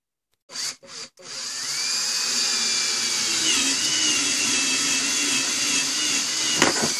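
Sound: power drill drilling

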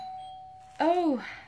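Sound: doorbell ringing

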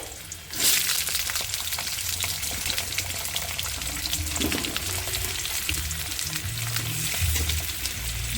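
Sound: frying potatoes in hot oil with bay leaf and cumin

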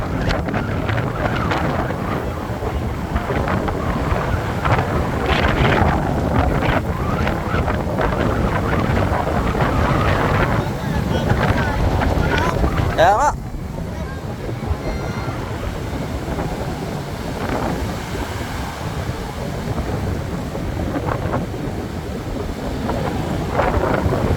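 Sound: strong wind

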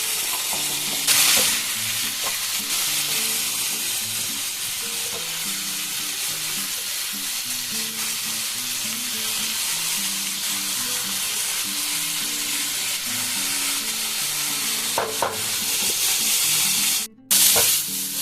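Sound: stirring and frying onions and tomatoes for fish curry

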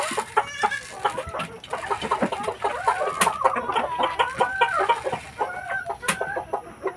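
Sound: free-range hens clucking

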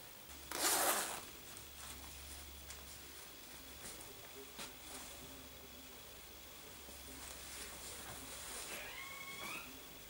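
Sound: recycled zipper on a knitted jumper being zipped

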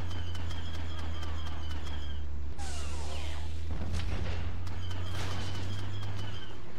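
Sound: grenade explosions in Star Wars Battlefront 2 video game

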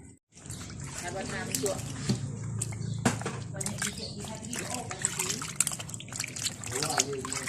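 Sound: washing something in running water

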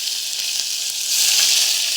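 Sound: ginger and chillies sizzling in hot oil

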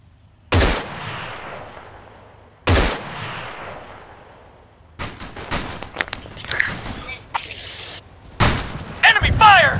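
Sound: gunfire in a video game

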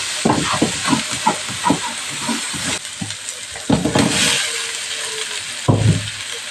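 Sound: water added to hot pan of frying chicken, sizzling

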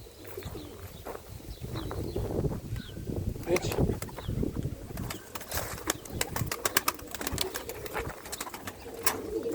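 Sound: pigeons cooing at coop

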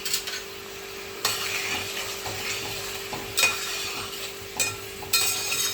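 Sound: chili chicken sauce with vegetables simmering in pan

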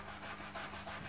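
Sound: brushing wood with cleaning foam on an M1815/45 restoration

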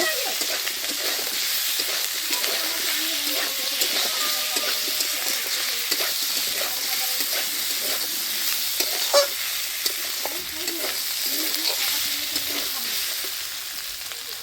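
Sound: ginger garlic paste and spices frying with vegetables

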